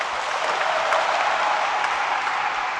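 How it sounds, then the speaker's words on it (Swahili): Sustained applause from women in a seminar audience, a dense, steady wash of many hands clapping at even loudness throughout, with no talk over it. "Wamama jipigeni makofi."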